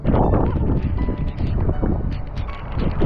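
Strong gusting wind buffeting the microphone in heavy rain on the Machindragad mountain fort pinnacle, a loud continuous roar with rumbling low-end surges throughout.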